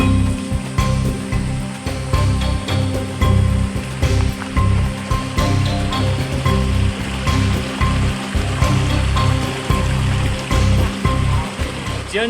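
A jungle river flows on Mt. Apo, a loud, steady rush of churning water that continues without a break for the whole stretch.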